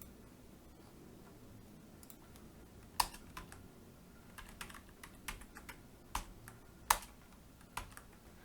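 Computer keyboard typing while coding in C# with ASP.NET Core, including a Ctrl+period shortcut: a handful of crisp, separate keystrokes over about eight seconds, close and fairly quiet, with no talking.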